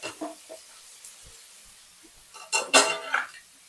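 Ground tomato pours into a hot pan of sautéed onions for chicken kuzhambu, setting off a short burst of sizzling and hissing after a few faint clinks of cookware.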